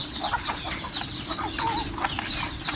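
Chicks being fed corn grits and chick grower peep and cluck in a busy, overlapping chatter, with other fowl close by and a steady low background underneath.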